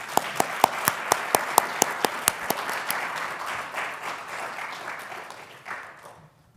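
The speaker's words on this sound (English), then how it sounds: "please welcome him with a warm round of applause" Audience applause welcoming a law professor to an inaugural address, opening with loud, evenly spaced claps close to the microphone over a general patter of clapping, then thinning and fading away toward the end.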